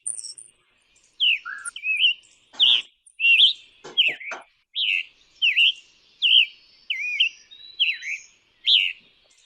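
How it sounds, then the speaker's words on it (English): A scarlet tanager sings a series of short, burry phrases in a steady rhythm, clear and fairly close against a quiet background, with a few brief clicks between notes. "What you're hearing here is the bird that's on the left"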